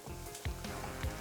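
Onions sizzle in a hot pan over medium heat, sliced long, with a steady crackling hiss and a couple of louder spits and stirs close by.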